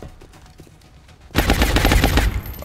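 Automatic gunfire from the XCOM Long War video game erupts in a loud, sustained burst of rapid shots after a quieter stretch of faint clicking and ambient game sounds.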